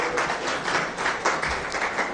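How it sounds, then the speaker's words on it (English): Audience applause at a minister's press briefing, a steady dense wash of clapping from a roomful of people, moderately loud and continuous throughout with no speech over it. "Another round of applause for Mr. Dovlo."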